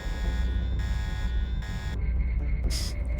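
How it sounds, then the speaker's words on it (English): In the video game Deus Ex, an alarm buzzes in steady pulsing bursts over a dense game background, loud and continuous with no speech. "The alarm stops for some reason."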